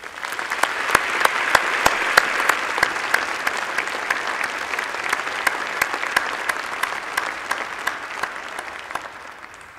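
An audience at a university graduation ceremony in a historic hall gives sustained, dense applause. Many hands clap steadily for nearly ten seconds and the sound fades slightly toward the end.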